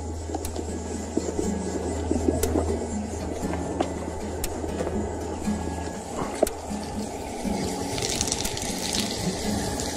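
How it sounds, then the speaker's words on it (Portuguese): Cold spring water piped to an outdoor tap at a rural farm hotel runs in a steady, continuous splashing gush, close by, with no voices over it. "Então tem a torneira aqui também."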